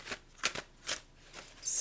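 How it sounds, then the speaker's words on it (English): Tarot cards being shuffled by hand, several quick papery riffles and slaps in an uneven rhythm, close and fairly quiet, with no talk. "I've just been shuffling this entire time."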